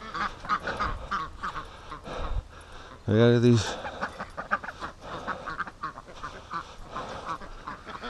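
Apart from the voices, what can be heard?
ducks quacking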